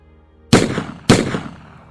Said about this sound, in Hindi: 2 गोलियां दोनों की छाती चीरती हुई निकल जाती हैं।